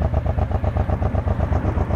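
Suzuki Boulevard M90 motorcycle idling just after starting, a steady, loping low-pitched engine pulse with a regular rhythm, close and fairly loud, with no voices.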